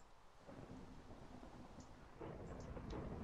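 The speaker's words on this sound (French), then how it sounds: "il y a l'air d'avoir de l'orage dehors" Thunderstorm outside in the video game Minecraft: a very faint, low rumbling roll of thunder with rain hiss, building slightly louder toward the end, with no talking.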